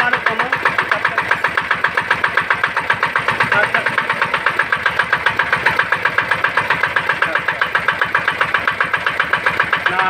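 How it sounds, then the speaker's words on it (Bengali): A motorcycle engine starts and then idles steadily after a crankshaft bearing replacement done without removing the crankshaft, running close and loud with an even, rapid mechanical beat and no voices. "এবার স্টার্ট দেব। স্টার্ট দিলে বুঝতে পারবো যে সেই সাউন্ডটা আসছে কি না।"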